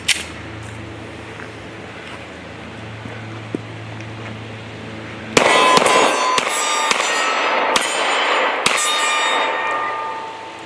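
Glock 43 pistol fired outdoors: after a quiet stretch, a series of sharp gunshots with ringing echoes, about six loud reports spaced unevenly, no talking.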